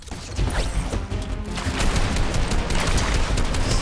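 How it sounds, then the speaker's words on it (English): Rapid bursts of gunfire in a Fortnite battle crackle continuously, dense and close, with mechanical clatter and crashing impacts running throughout. "I'm hearing gunshots over there"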